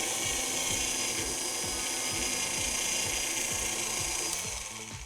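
Stand mixer beating cookie dough with an egg on medium speed, a loud steady motor whir with a rhythmic mechanical clatter throughout, fading slightly at the end.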